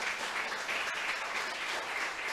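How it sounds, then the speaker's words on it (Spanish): A church congregation applauding together during a Spanish-language worship service, with steady, even clapping that holds at a constant level throughout, unbroken and with no voices heard over it. "Vamos a darle un grande aplauso a Dios por esto"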